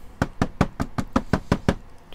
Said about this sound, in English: just knock off the excess powder